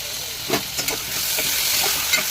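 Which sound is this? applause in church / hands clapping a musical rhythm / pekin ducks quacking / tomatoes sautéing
tomatoes sautéing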